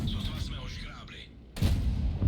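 A Skoda T 25 tank cannon booms once in World of Tanks, a sudden loud blast about midway, with a person talking before and after it.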